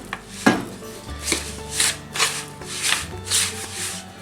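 Thick tahini stirred in a bowl, with rhythmic scraping and swishing strokes about every half second, close and clear, and a brief low tone partway through.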